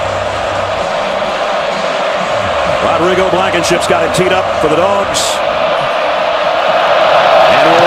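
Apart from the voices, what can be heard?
sellout stadium crowd cheering at Auburn football game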